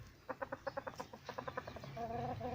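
A rooster clucks in a quick series of sharp, rhythmic notes, then gives a short drawn-out call, fairly close and alone.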